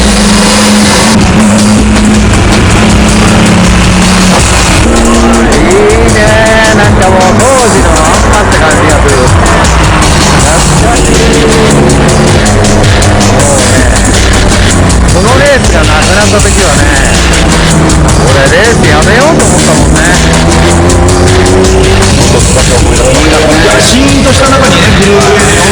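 Group A replica Nissan BNR32 GT-R race cars lap a track, their engines revving and rising in pitch in repeated sweeps beneath steady narration.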